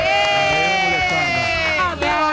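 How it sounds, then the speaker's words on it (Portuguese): A studio audience cheers and whoops loudly at a Brazilian comedy talk show, voices overlapping over a sustained tonal backing, cut off abruptly near the end. "Uma salva de palmas."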